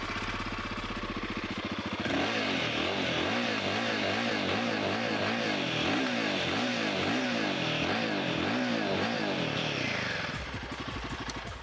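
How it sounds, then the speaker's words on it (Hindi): A Royal Enfield Himalayan motorcycle exhaust thumps at idle, then revs in repeated rising and falling bursts before settling back to a steady idle, close and loud. "बाइक का एग्जॉस्ट साउंड कैसे करता है वो मैं आपको सुनाता हूँ।"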